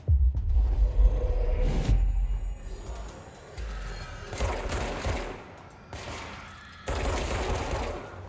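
Gunfire in the Control video game, delivered in several bursts of rapid shots with heavy low rumbling, separated by short quieter gaps.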